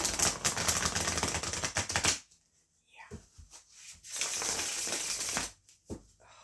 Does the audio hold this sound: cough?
no